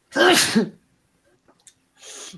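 A loud, close sneeze bursts out, followed by a quiet pause with faint noises and then a softer exhale.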